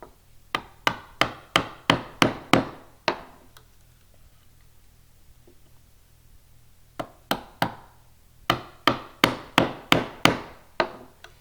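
A wood mortise is chopped by hand with a chisel and mallet: two bursts of sharp, evenly spaced mallet blows on the chisel, about nine and then ten strikes, separated by a quiet pause, close and crisp.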